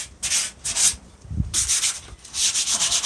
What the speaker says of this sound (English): Okay, so I'm sanding away.